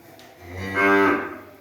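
A single bovine moo at a livestock market selling cattle for fattening, loud and close, swelling to a full drawn-out call then tapering off, with no talk over it.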